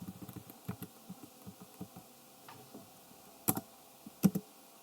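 Soft, scattered clicks of a computer keyboard being tapped while playing the DOS version of SimCity, irregular light keystrokes close by with a couple of sharper clacks near the end, no voices.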